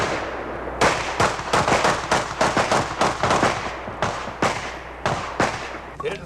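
Rapid .45 pistol shots at bowling pins in a 1986 combat shooting tournament, a quick string of loud, close reports in uneven bursts with short pauses between them.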